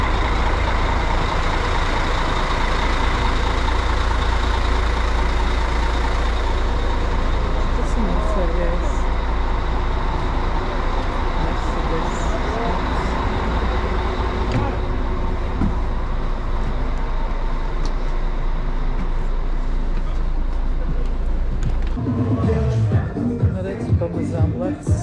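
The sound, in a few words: many buses idling and driving at a petrol station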